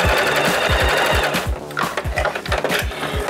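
A sewing machine stitches small ear pieces for mittens, running in a steady, rapid chug of needle strokes that pauses briefly mid-seam and then resumes, loud and close.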